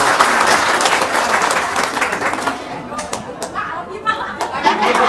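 An indoor audience at a motivational talk claps loudly in a dense burst of applause that thins out toward the end. Voices are heard speaking over the clapping.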